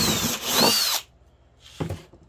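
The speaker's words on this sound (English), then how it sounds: "You drill all the way through and you got your 9/16." Power drill with a 9/16-inch step bit cutting through a plastic five-gallon bucket: a loud, sustained whine that stops abruptly, a quiet pause, then a short second burst of drilling.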